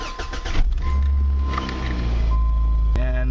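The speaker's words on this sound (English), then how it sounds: "you'll want to start the car" A Ford car engine with EEC-IV electronics cranks and catches, then settles into a steady low idle close by, with a brief click near the end.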